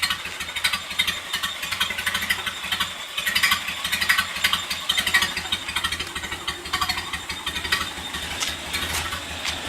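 A 1928 Ford Model A engine idles steadily with a lumpy, rhythmic putter, moderately close, and no voices over it.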